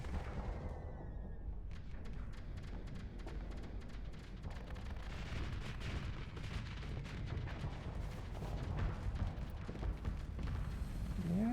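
Spaceship guns and missiles fire nonstop in Starsector, a dense rapid stream of sharp shots and booming impacts layered over a low rumble, loud and sustained throughout.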